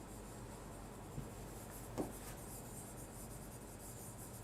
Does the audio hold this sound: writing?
yes